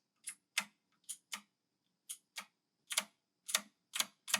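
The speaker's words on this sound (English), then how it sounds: "The click, it's like a loud, high-pitched click." Sharp, high-pitched clicks from the mechanical switches of a budget AJazz AK50 keyboard, with a springy ping, come as about a dozen separate keystrokes in irregular pairs and singles, quiet and close.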